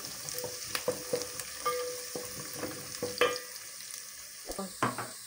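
Onions fry in a pan until golden brown, a soft steady sizzle broken by repeated close scrapes and taps of a stirring spoon, with no talking.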